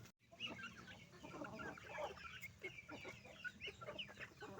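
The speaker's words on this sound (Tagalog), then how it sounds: "Nagkalat-kalat ang mga manok." Several chickens cluck and chatter nearby in a busy, overlapping stream of short calls.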